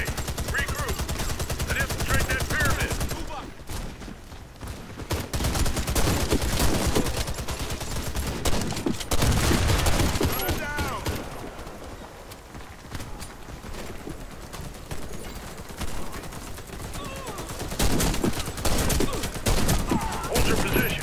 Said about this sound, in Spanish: Ya comenzaron los balazos.